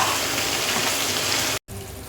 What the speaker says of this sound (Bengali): আমাদের পরোটা ভাজা শুরু হয়ে গেছে।